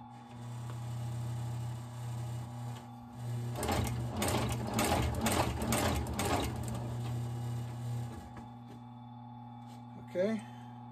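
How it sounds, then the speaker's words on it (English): A lock stitch machine with top and bottom threads sews Blake-stitched shoe soles, giving a steady mechanical whir that breaks into a rapid burst of clattering stitches, then stops, with a person talking over it. "This is a lock stitch machine because it's got a top and a bottom thread and it locks together like that."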